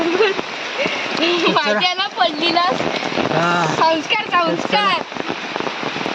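Steady monsoon rain falls in a Konkan village while people walk outdoors, a continuous hiss heard beneath loud, close conversation.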